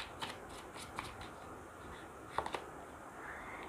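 Tarot cards shuffled and drawn from the deck during a Hindi tarot reading, giving a few soft, close riffling snaps and flicks scattered over a quiet room background.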